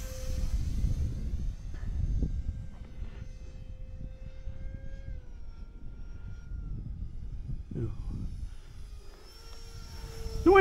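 Habu 50mm electric ducted-fan RC jet passing almost directly overhead on a windy day, a steady whooshing whine that swells and fades with pitch shifts, continuous and fairly loud with wind rumble underneath.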